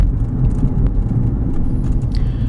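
Cabin of a 2004 Toyota Highlander base model with a 4-cylinder engine and front-wheel drive, on a road drive: a steady low engine and road rumble, loud and close, with no talk.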